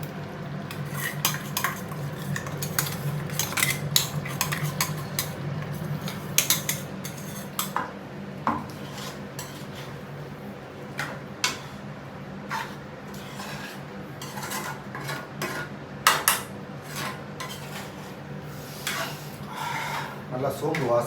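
Ground coconut, fennel and cinnamon paste being mixed into a chicken curry, with repeated metal spoon scrapes and clinks against the pot over a steady low hum, while a voice talks intermittently.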